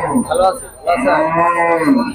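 A Holstein Friesian dairy cow moos loudly and close, two long tonal calls with a brief pause between them and no talk over them.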